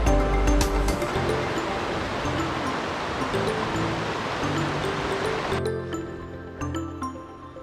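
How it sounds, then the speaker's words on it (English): Water roars steadily in Browns Creek close to a waterfall on a Colorado trail, a dense continuous rush that holds evenly and eases slightly toward the end. "I can hear the water roaring"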